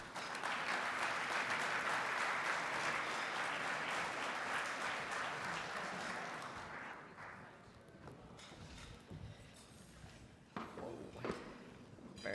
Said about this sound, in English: Let's give her a big round of applause for Jessica.